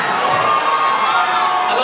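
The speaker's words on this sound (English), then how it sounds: "I'm just going to like say stuff so you guys scream because I know you're going to scream." A large crowd at a live music performance screams and cheers loudly and continuously, shrill whoops and shouting blending into a dense roar close to the stage.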